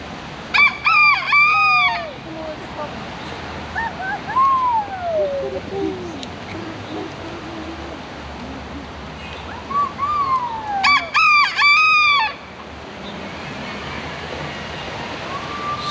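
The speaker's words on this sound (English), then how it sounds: "we've got some chickens." Two bursts of rooster crowing with harmonic calls, separated by quieter clucking and chirps over an outdoor background hum in Sochi Botanical Gardens.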